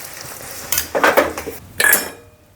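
Cooked vaghareli khichdi is served into a bowl, with a few close metal spoon scrapes and clinks against the pot and bowl in short bursts.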